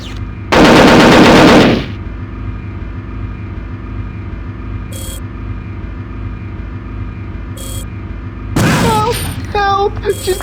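A loud, dense burst of automatic gunfire from Perfect Dark rattles for about a second, followed by a few faint clicks and then a voice shouting near the end.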